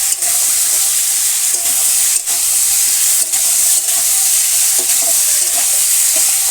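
Tilapia fish frying in a village kitchen pan with a paste of cumin, ginger and dried red chilli, loud continuous close sizzle and hiss, broken by short scraping stirs at irregular moments.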